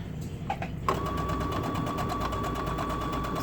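A sewing machine runs steadily after a brief start, stitching together the inside, outside and band layers of a welder cap; a close, continuous rapid mechanical whir.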